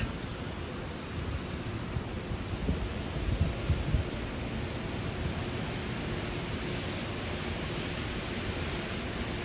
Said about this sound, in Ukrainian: в нас йде, можна сказати, страшний дощ